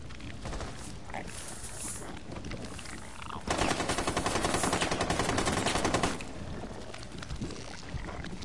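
Automatic gunfire from an attack on an objective in a video game: a dense, loud burst of rapid shots lasting a few seconds, set among busy game noise and effects.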